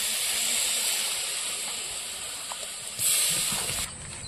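Jaggery heating in a wok (kadai) gives a steady loud hiss that swells briefly near the end, close, with no talking.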